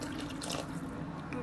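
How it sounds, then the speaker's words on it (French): Water is poured into a Thermomix bowl while cooking stuffed spring chickens, a steady close splashing stream that runs continuously for the whole moment with no talk. "Je rajoute 400 g d'eau."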